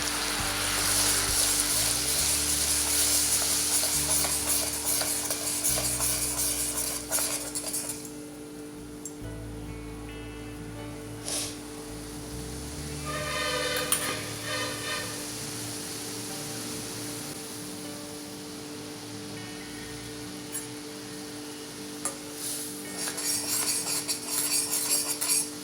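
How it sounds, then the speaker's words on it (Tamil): Steady broadband hiss and bubbling of salted water boiling in a pot on a stove, with occasional light clinks, continuous throughout with no talking. "இப்போ தண்ணி நல்லா கொதிச்சிடுச்சு."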